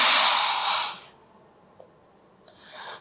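A slow, breathy exhale during a yoga practice for back pain, loud and close for about a second, then fading into quiet; a softer breath returns near the end, with no talking.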